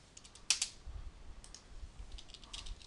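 Quiet keyboard typing during 3D modeling in Modo, with a sharper single key press followed by scattered soft clicks and taps at close range.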